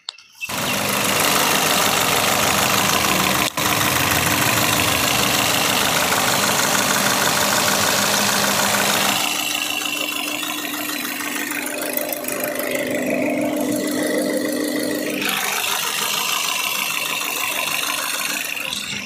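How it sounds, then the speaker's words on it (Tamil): A 2017 Maruti Suzuki Ignis petrol engine idles close by, loud and steady at first, then quieter and smoother as it settles into an even hum. "இப்போ வண்டியோட இன்ஜின் நாய்ஸ் நான் உங்களுக்கு மைக்கு பக்கத்தில் வச்சு எப்படி இருக்குன்றதை காட்டுறேன்."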